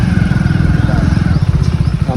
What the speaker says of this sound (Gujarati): અરે કેમ આવી બાઇક ચલાવી યાર